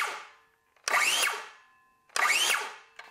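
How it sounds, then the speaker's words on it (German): An 18V cordless circular saw revs up twice and its blade spins down to a quick stop each time; the loud whirring bursts fade rapidly after each run, with no talking. "dass das Sägeblatt hier zum Stoppen kommt"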